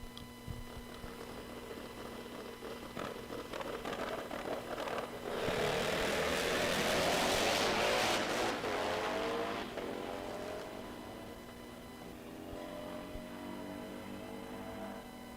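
A 1991 Pro Outlaw drag racing motorcycle makes a full run at a drag strip, its engine swelling into a loud, roaring wail mid-clip before easing back to a distant drone.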